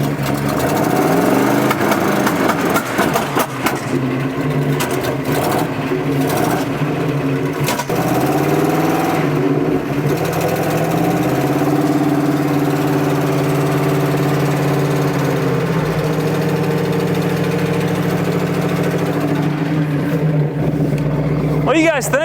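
An old Ford F100 pickup engine runs at a steady idle, a continuous close mechanical hum and patter with a few uneven stumbles, holding level throughout.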